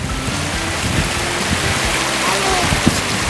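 Mountain river Prut near its source in the wild Carpathian forest below Hoverla, a dense steady rush of flowing water close by, with faint voices underneath.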